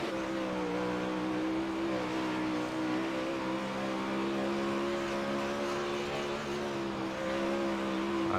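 Race car engine droning steadily at USA Speedway during a Thunder Racing League race, a continuous loud whine with shifting pitch as the car circles the track, no voices.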